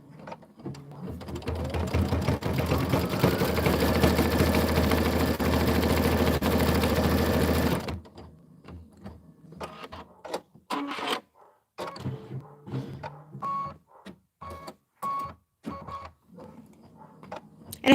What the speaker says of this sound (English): I'm gonna go ahead and hit start, and now it's gonna do the little loop-de-loop detail.